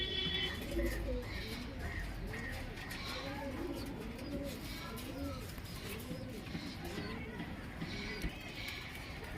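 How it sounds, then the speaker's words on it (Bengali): Loft pigeons cooing, soft repeated rolling coos overlapping one another at close range over a low steady background hum. "আসুন পায়রাটাকে ছেড়ে দেখানো যাক।"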